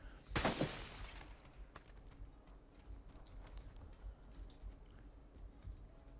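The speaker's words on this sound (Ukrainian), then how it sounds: "Яке вікно розбив?" Window glass shatters in PUBG in one sharp crash near the start, followed by a few faint tinkles and clicks over quiet background noise.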